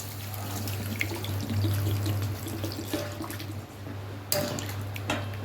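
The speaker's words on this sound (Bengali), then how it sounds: "কষানো হয়ে গেছে এবার জল দেবো" Water is poured into a pan of sautéed prawn curry, giving a close trickling splash over a low steady hum, with a few clinks of utensils against the pan.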